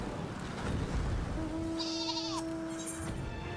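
Sheep in the video game Final Fantasy XIV give a drawn-out, steady bleat that holds for a couple of seconds, faint and a little distant above a dense hiss of ambient game sound.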